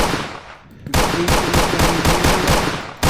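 Rapid automatic gunfire from a first-person shooter game built in Unreal Engine 5, a loud burst of evenly spaced shots following a brief lull, close and dominant.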